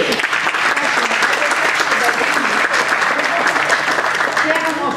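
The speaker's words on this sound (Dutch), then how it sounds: "Ja, dat mag ook klappen." A crowd claps loudly and continuously at an outdoor neighbourhood campsite gathering, dense applause filling the whole stretch without pause.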